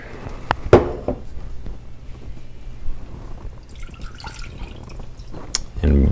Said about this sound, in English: So apple cider vinegar. Can I say that right? I'm gonna go ahead and add about 3/4 cup.